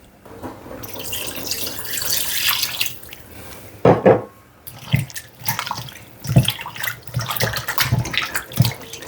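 Water runs over chicken backs being washed with vinegar in a sink, a steady tap flow broken by splashes and handling knocks for Jamaican stew peas.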